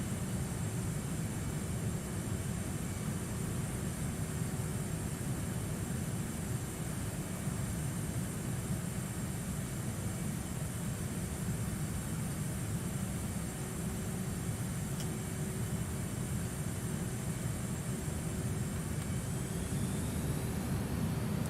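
A Gripen jet fighter in Microsoft Flight Simulator roars with its engine on afterburner, a loud, steady, dense rumble and hiss that holds throughout with a faint rising whine near the end.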